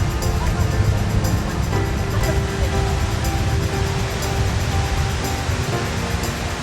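Waves washing onto a beach where people bathe and exercise in the water: a continuous broad roar of surf with no distinct breaks, fairly loud and close, with a faint hint of distant voices.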